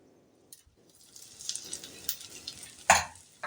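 Potatoes dropped into a hot tempering of fennel and asafoetida for pumpkin chhokka, soft crackling and sharp spitting pops that build and peak near the end, stirring audible, no talk.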